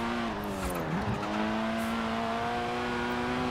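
A new, upgraded green Italian sports car in Forza Horizon 4 drives with a steady, loud engine drone that dips briefly, then climbs smoothly in pitch under acceleration. The engine is heard alone, with no talking.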